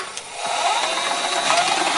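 A steady mechanical whirring and rattling hum of a VCR found in the garbage fast-forwarding a tape noisily, loud and continuous throughout.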